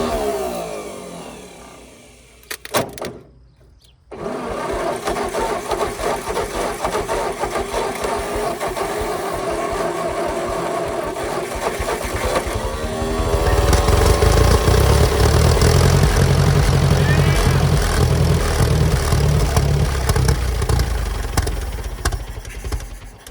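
A Ford 541 Offset tractor engine starts after a brief stutter and keeps running, a steady mid-pitched mechanical drone close by that swells louder and rougher toward the end, with no talking.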